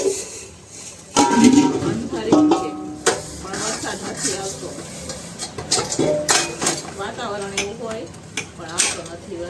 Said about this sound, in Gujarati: ફટાફટ ઉકી નાખીએ આપણે વાસણ